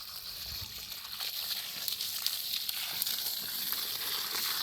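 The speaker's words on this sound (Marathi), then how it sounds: "बोरला असं पाणी लागलेलं आहे हे आम्ही खाली शेताकडं आणलेलं आहे" Borewell water gushes out of a pipe into a field in hilly farmland, a steady faint hissing splash of flowing water continuing without break.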